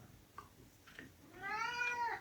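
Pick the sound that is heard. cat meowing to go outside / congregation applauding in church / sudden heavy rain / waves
cat meowing to go outside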